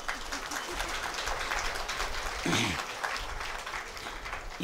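An audience at an evening poetry discourse in Kollur claps in a dense, continuous patter, fairly faint and distant, with a brief murmur of voices partway through.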